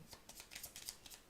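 Playing cards shuffled during a Stars of Akarios tabletop game, a quiet run of soft, rapid riffling flutters in short repeated bursts with no talk over them.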